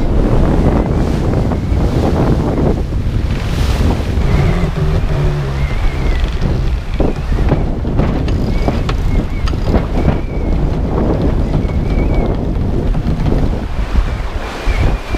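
Rough sea in a gale off a sailboat heeling at about 8 knots between Iceland and the Faroe Islands, constant loud wind buffeting the microphone over crashing, rushing waves and water against the hull.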